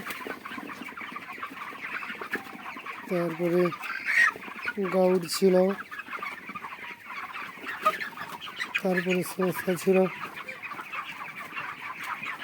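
Chickens on a poultry farm of several thousand birds cluck in short repeated bursts that rise over a constant background murmur of the flock, while someone talks throughout.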